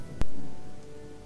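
Steady rain in the video game Gothic, a broad even hiss of falling water with a single sharp click near the start, then the rain continuing alone at moderate volume.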